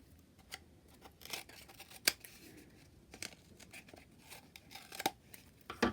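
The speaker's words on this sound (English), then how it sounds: "Now anything that's sticking out, you can trim off." Scissors trimming excess paper craft material on a handmade tower model, a series of quiet, close, crisp snips at irregular intervals with light paper rustling and no talking.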